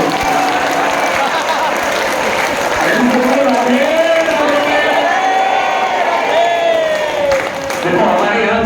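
A large crowd claps loudly together at a temple gathering in Vrindavan, a steady dense wash of applause lasting throughout, with voices calling out and a tonal chant or sung line rising over the clapping.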